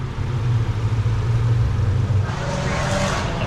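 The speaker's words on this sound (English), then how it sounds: "So there's cars in the background that are driving." Steady road traffic rumbles past in the background, a continuous low engine drone from passing cars with a second vehicle swelling slightly near the end, loud and close with no talk over it.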